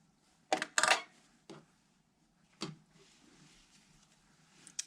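Yarn being cut at the end of a crochet headband: a few short, sharp snips close by in an otherwise quiet room, with brief pauses between them.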